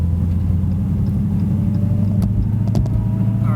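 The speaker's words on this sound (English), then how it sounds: "You're gonna hear the supercharger whine." Dodge Challenger SRT Hellcat cruising at highway speed, heard from inside the cab: a steady loud engine and road drone with a thin supercharger whine riding above it, no talking.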